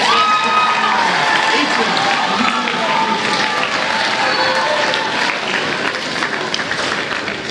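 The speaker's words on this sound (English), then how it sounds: "Give them another round of applause." A school ceremony audience claps and cheers in a long, loud, dense round of applause that fills the whole stretch and fades only slightly near the end.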